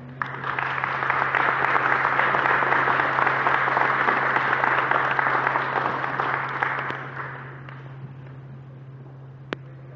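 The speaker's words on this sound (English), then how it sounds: "perhaps if you could clap while the mayor comes along" Indoor audience applause at a Le Mans motor sport networking event at Bolton University as the mayor comes on, a dense sustained clapping that fades out, over a steady low hum.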